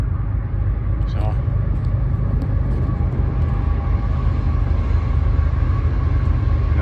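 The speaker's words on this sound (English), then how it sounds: "those trains are noisy, and we're right next to the tracks." Train passing close by on nearby tracks at night, a loud continuous low rumble that holds steady throughout, with a voice speaking over it.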